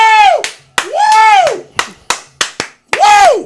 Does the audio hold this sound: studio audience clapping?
yes